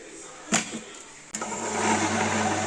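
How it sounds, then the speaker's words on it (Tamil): A kitchen wet grinder grinding soaked urad dal into batter: a couple of sharp knocks, then the motor starts and settles into a steady, droning hum that grows a little louder. "இப்போ உளுந்து நல்லா ஊறிச்சு கழுவி எடுத்தாச்சு கிரைண்டரில் ஆட் பண்ணிக்கலாம்"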